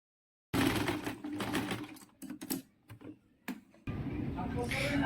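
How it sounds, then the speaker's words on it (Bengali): A sewing machine stitches along the side pocket of a pair of trousers, running in close, loud bursts with brief stops and restarts between runs. "দেখুন পকেটের সাইডটি যখন সেলাই করবো অবশ্যই খেয়াল করবো যাতে পকেটের ওপরে সেলাইটি না পড়ে"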